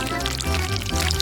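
A fry dipped into a flowing chocolate fountain, a brief, steady pouring trickle of liquid chocolate heard up close for about a second.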